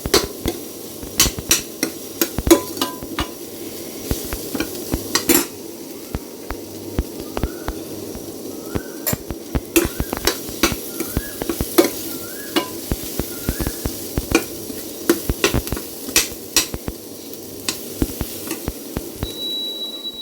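Vegetables stir-fried in a pan in a home kitchen, with a low sizzle under frequent sharp spatula clacks and scrapes in an irregular, busy rhythm, close and with no speech.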